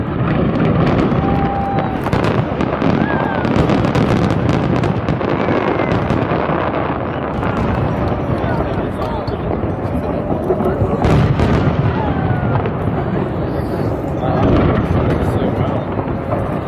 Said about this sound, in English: We went on a large yacht from which we saw some spectacular fireworks.